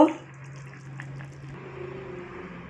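Cooked bottle gourd leaf curry with potato and eggplant is poured out of the pot: a soft, steady liquid pour with gentle splashing, quiet and close over a low background hum, with no talking.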